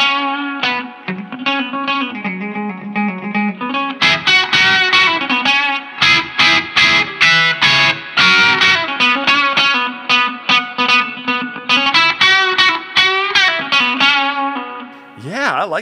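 Electric guitar played through an LSL Vital DS distortion pedal set to low gain, giving a light overdriven tone: sustained chords open, followed by rhythmic, palm-muted chugging strums, loud and close with no talking.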